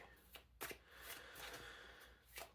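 Tarot cards shuffled by hand in a quiet room, a few soft papery riffle bursts and a longer rustling run, faint and close.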